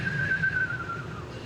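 A human whistler at a storytelling event imitates birdsong with one sustained, gently wavering whistled note that slowly slides down in pitch and fades over low background murmur.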